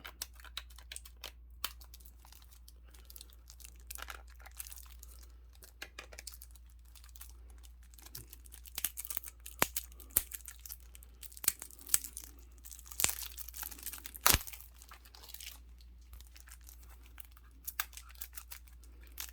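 A Kickstarter card game box being unwrapped and opened, faint crinkling plastic, tearing and small handling clicks in scattered bursts, louder in the middle.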